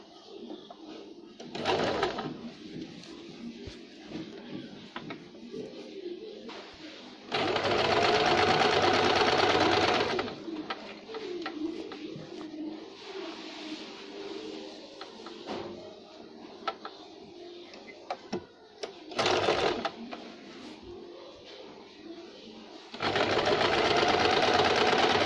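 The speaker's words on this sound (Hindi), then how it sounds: "इस तरह से अब नेक की तरफ हम सिलाई लगाएंगे फिनिशिंग के लिए।" Sewing machine stitching the neck finishing on a jumpsuit, with long steady whirring runs and shorter bursts between stretches of lower background hum, and faint bird cooing in the background.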